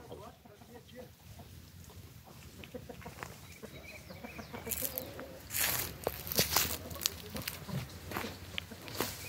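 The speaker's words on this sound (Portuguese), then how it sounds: "E ali estão as galinhas caipira." Free-range chickens on a small farm cluck and fuss nearby in scattered bursts, growing livelier toward the end, while a voice talks over them.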